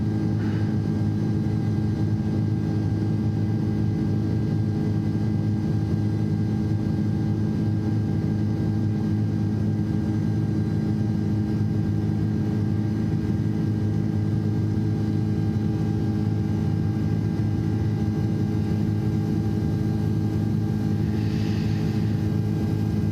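A large aircraft engine drones steadily in a flight simulator, a loud, even, continuous hum with a constant tonal rumble throughout and no talking.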